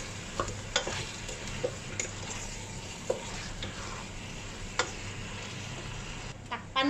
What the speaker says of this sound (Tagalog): habang ginigisa natin yung manok guys